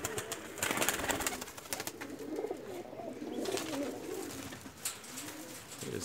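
Several Pakistani flying pigeons of various breeds coo in soft, throaty rolls, overlapping at close range, with faint chirps and rustling in the background.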